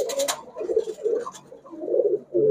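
Giribaz high-flyer pigeons, a red-grizzle hen and an orange-grizzle cock, coo in a repeated low rumbling pattern, close and moderately loud, with a brief rustle at the start.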